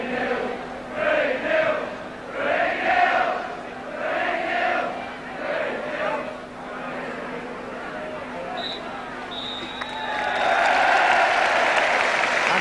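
Tottenham supporters at White Hart Lane in 1977/78 roar and applaud as Spurs leave the pitch at half-time against Bristol Rovers, heard distantly under a commentator's voice before swelling into loud crowd noise near the end.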